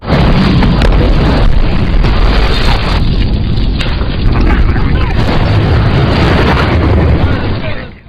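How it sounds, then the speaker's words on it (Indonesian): A car explosion: a massive, sustained roaring blast fills the clip, loud and rumbling throughout before cutting off at the end. "akhirnya meledak di luar kantin tanpa melukai siapapun"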